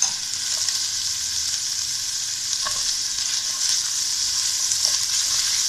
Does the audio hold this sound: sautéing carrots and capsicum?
yes